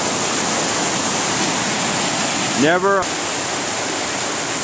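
A creek swollen with spring runoff rushes steadily, a dense, even hiss of flowing water filling the clip, close and constant, with a brief spoken word breaking through near the middle.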